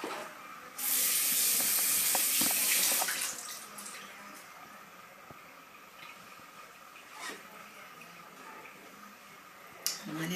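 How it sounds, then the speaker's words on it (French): Water runs from a bathroom tap for a few seconds while a face is rinsed after a galvanic spa facial treatment, a loud steady rush that then drops to softer splashing and dripping. "je vais rincer avec de l'eau"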